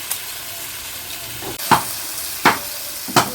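Potatoes with a bay leaf and turmeric stirred in hot oil, a low background sizzle broken by four sharp scraping stirs of a spatula against the pan, close and without talk.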